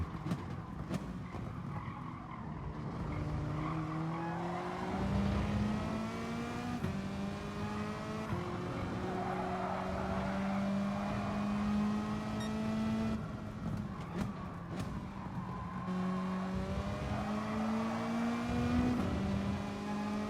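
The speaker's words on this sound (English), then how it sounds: "The Mercedes now getting some wheel spin." A Mercedes race car spins its wheels in a racing video game, with a continuous engine drone whose pitch climbs and drops as it shifts, layered with screeching tire skids and nearby competing car engines.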